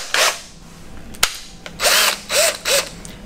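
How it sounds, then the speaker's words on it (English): A hand drill running at slow speed counterbores a hole for a captive screw, whirring in several short close bursts with a sharp click between them. "we'll look to then counterbore it. What you really want to do is set this to a slow speed so you have more control."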